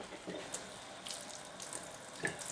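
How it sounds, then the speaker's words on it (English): Tap water running into a sink while canning jars are soaped and rinsed, a steady close splashing with small clinks and bumps and no talking. "soap, water, and rinse the jars and the lids"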